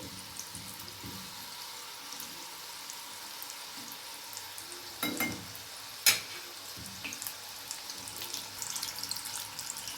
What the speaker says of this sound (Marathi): मीडियम गॅसवरच आपल्याला हे तळायचे फास्ट गॅस करायचा नाही